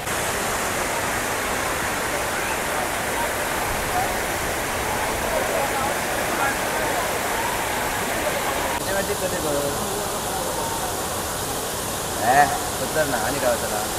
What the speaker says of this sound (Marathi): हा बघा इथून जात आहे वॉटरफॉल.